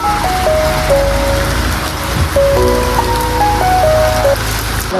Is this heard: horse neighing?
no